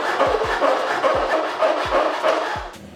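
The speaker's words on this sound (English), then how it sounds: "try and flatten this down with a file" Hand file scraping back and forth over steel car body panel on a Golf GTI MK3 restoration, a harsh rasping stroke repeated about every half second with soft knocks, close and loud, no talk.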